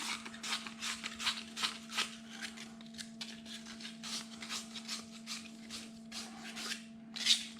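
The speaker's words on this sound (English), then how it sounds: "Clean up any kind of burrs that might be on the edge." A deburring tool is worked around the cut edge of tubing, giving repeated short scraping strokes in an uneven rhythm over a faint steady background hum.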